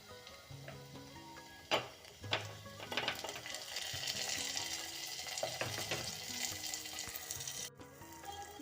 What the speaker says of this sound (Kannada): ಇವಾಗ ಹೆಚ್ಚಿರೋ ಟೊಮೆಟೊನ ಹಾಕೋತಾ ಇದ್ದೀನಿ